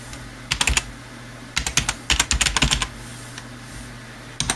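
A password typed on a computer keyboard while setting up Zorin OS 16.1 on an HP machine with a Q6600, sharp close key clicks in a few quick bursts with short pauses and a final lone keystroke.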